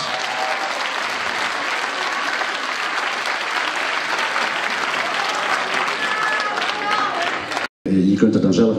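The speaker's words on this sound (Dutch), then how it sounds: "Hartelijk applaus nogmaals." A large crowd gives long, loud, continuous applause at a local sports awards evening honouring athletes of the year. It holds steady for several seconds before an abrupt cut, after which a brief stretch of voices and other sound follows.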